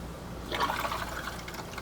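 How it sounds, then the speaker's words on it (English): An RV toilet foot pedal is pressed halfway, letting a short, soft gush of water trickle into the bowl, close and quiet, lasting under two seconds. "on that pedal, gets you water, and if you want to flush, you just push it all the way, and that flushes it out"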